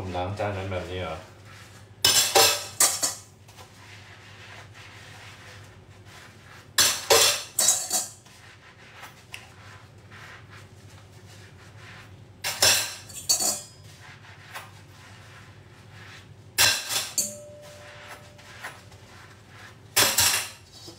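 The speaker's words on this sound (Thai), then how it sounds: "เข้ามาดูผมล้างจานนั้นแบบนี้เหรอ" Dishes, pots and cutlery being washed by hand, with bursts of clattering and clinking metal and crockery recurring every few seconds, loud and close, separated by quieter stretches of running water and handling.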